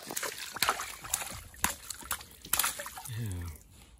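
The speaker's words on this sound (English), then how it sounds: "Splash." A splash in a lake during carp fishing, a short watery burst near the end, with people talking over and around it.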